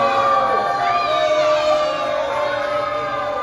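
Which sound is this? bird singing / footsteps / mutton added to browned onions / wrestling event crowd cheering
wrestling event crowd cheering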